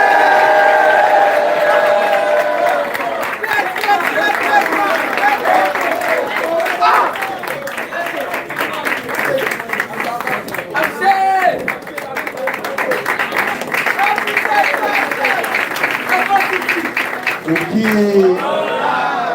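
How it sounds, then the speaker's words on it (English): Audience applause fills a hall during a distributor training event: a steady wash of many hands clapping, sustained and fairly loud, with voices and crowd noise mixed in throughout. "Round of clap."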